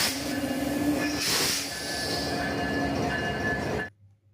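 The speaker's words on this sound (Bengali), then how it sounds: "দেন এই তো ইঞ্জিন চলে আসছে।" Train engine pulling into a station at night in Sylhet, a steady rumbling roar with hiss and a faint metallic squeal, loud and close, then cutting off abruptly near the end.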